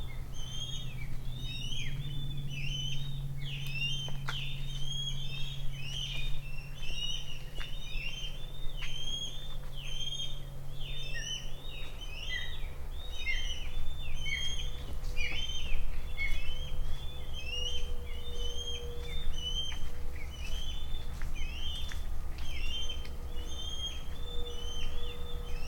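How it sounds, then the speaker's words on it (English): Many birds sing and chirp continuously along a coastal trail, with repeated bright calls layered over a steady low rumble of wind or surf for the whole stretch. "You can hear all the birds."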